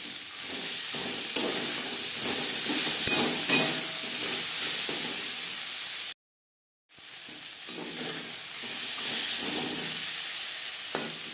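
Peas and tomato fry in a pan for dal, giving a loud, steady sizzle and hiss close up with stirring scrapes, broken by a brief moment of silence before the frying resumes.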